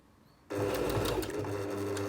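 A sewing machine starts abruptly after a brief quiet moment and runs steadily, stitching across the bottom of a lapped zip in fabric with a close, continuous whirring hum and fast needle chatter.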